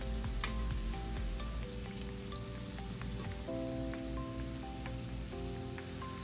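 Urad dal vadas deep-frying in hot oil over medium heat, a dense continuous bubbling sizzle with fine crackling pops throughout, close and steady, no voices.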